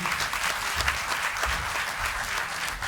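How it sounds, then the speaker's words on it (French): A concert audience applauds steadily as a performer heads backstage, dense, sustained clapping from a crowd filling the hall. "On va l'accompagner en coulisses sous vos applaudissements."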